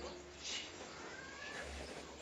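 Domestic cat meowing indoors, a short faint mewing cry with a softer call following, while a person talks quietly nearby.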